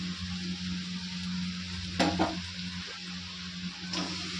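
Dried fish frying in a pan with spices, a soft continuous sizzle under a low steady hum, broken by a couple of brief clinks and scrapes of a utensil against the pan, close and fairly quiet, with no speech.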